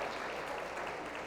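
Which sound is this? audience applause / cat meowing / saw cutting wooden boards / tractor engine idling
audience applause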